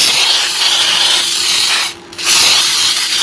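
Baking spray aerosol hissing into a pan while it is greased for a strawberry pie-cake, a loud close continuous spray with one short pause before spraying resumes.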